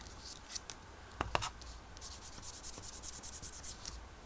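Vintage Photo distress ink rubbed around the edges of craft cards, a close, soft scratchy rubbing in short repeated strokes with a couple of sharper scuffs, with no talking.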